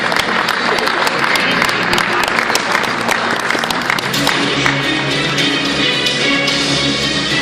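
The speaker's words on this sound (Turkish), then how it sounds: "alkışlarınıza davet ediyoruz" An awards ceremony crowd applauds as a company's general manager is invited to accept a prize, a thick sustained wave of clapping throughout with some background murmur.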